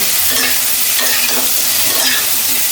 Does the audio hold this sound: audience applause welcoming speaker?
no